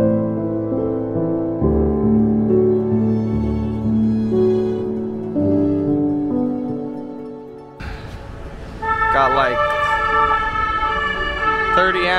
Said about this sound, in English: 30 ambulances right here in a row.